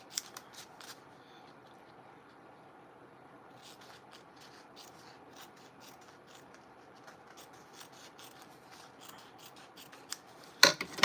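Scissors snip through material for handmade sea shell coastal home decor, a soft, quiet run of close cutting and rubbing with a few louder sharp snips at the end.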